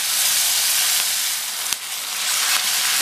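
Ground tomato paste with curry leaves sizzles and fries steadily in a hot pan, a loud continuous hiss with a brief clink of a utensil midway.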